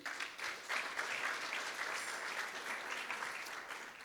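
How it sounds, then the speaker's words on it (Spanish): Congregation at a Sunday church service gives a round of applause, steady crowd clapping for about four seconds, somewhat distant in the hall. "¿Le quiere dar un aplauso al Señor?"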